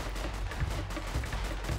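Rapid bursts of gunfire in the video game GTA 5 during a roleplay ambush on the army, dense repeated shots forming a steady crackling barrage.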